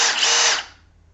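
A power drill spins in one short, loud, high whir lasting about half a second, then cuts off and quickly fades.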